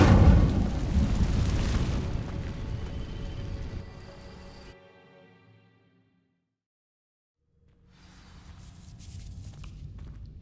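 A fire spell cast in Hogwarts Legacy: a loud, dense roaring burst that fades over about five seconds into near silence, after which a softer rumble and chime-like shimmer return.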